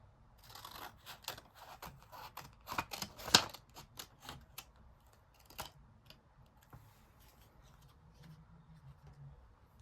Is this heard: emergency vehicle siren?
no